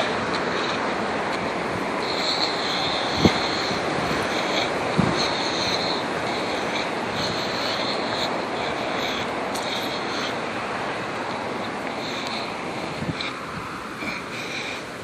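Strong wind of a haboob dust storm roars steadily against the microphone, a dense broadband rush with occasional buffeting thumps and gusts, loud and continuous with no voices.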